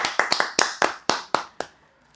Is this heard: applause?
yes